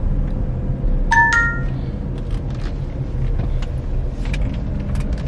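Steady low rumble of a car engine idling and creeping forward in a fast-food drive-through lane, with a couple of brief clinks and faint interior ticks over the constant road-vehicle drone, no one speaking.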